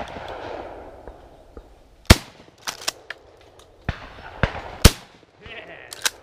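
Sharp shotgun blasts at an outdoor sporting clays range, two loud reports and several lighter cracks spaced a second or two apart, with faint voices between.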